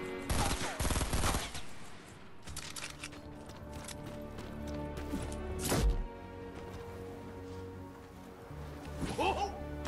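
Rapid bursts of gunfire crack out close and loud in clustered volleys, with single sharp shots in between and voices murmuring underneath.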